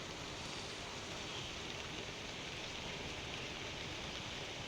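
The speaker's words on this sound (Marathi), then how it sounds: "कसा पाऊस सुरू आहे थोडा थोडा येत आहे" Light rain makes an even, continuous hiss with no breaks or distinct drops, steady and unchanging throughout.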